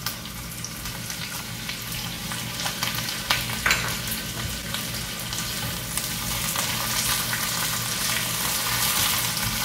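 Diced tomato for a chicken jalfrezi fries in a pan with a continuous close sizzle, broken by occasional scrapes and clinks of a stirring spoon, with no talk.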